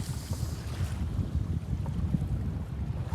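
Strong gusting wind on a river buffets a small wooden country boat, a continuous low roaring rumble with churning water underneath and no talking.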